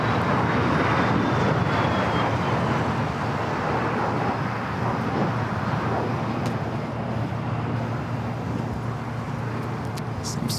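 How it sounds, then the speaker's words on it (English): Airbus A330neo airliner of TAP Air Portugal arriving at Los Angeles airport, a steady, continuous jet roar that holds loud and even throughout with no voices. "Arriving on the north side is Top Air Portugal, flight 247, coming over from Lisbon in an A330 Neo"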